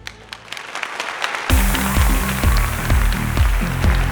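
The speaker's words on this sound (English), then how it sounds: "Ladies and gentlemen, your Arctic Challenge team. Round of applause, please." An audience greets the LeasePlan Women's Arctic Challenge team with loud, sustained applause that breaks out suddenly after a short quiet lead-in and carries on steadily to the end.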